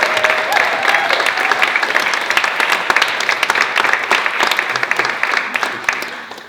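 A concert audience applauds steadily throughout, a dense, even wash of many hands clapping at close range.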